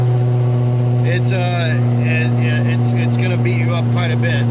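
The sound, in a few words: 2003 Ford Cobra engine with stage 3 comp cams and Whipple supercharger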